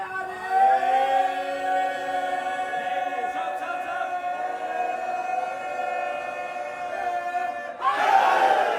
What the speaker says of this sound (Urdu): اچھا ایک دفعہ سارے مومنین مل کر نعرہ مارے